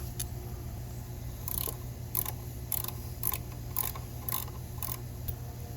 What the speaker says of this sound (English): We got this little sensor that's going to bolt back here with this 10 millimeter.